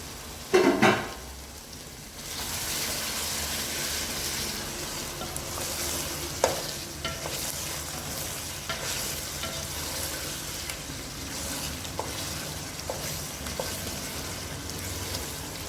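Chicken biryani stew is stirred in a cooking pot, opening with a sharp clatter of the lid or spoon, then a continuous soft sizzle with scattered scraping strokes and light taps.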